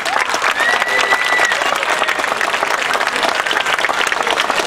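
A crowd applauds at an award ceremony with loud, sustained clapping from many hands, dense and even throughout, with no talk over it.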